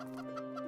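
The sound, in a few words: chicken clucking in Minecraft, from a video game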